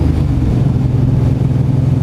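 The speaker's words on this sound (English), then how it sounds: "The engine makes a deep thrumble." A 2008 Suzuki M109R 1800cc motorcycle engine idles with a deep, steady low rumble, loud and close, holding an even throb throughout with no voices.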